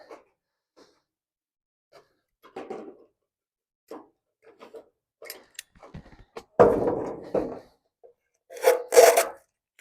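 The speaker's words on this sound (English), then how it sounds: "I'm just going to pinch it shut the best I can with my vice grip" A vice grip clamps and squeezes a metal gutter seam shut, giving scattered short scraping, rubbing and clunking contacts, with a few louder rasping bursts toward the end and quiet pauses between.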